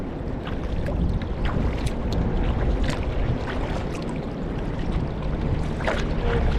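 A group of short rental kayaks, about 10 to 12 feet long, paddles past on the Cuyahoga River; a steady wash of water and wind carries light, scattered paddle splashes with no talking.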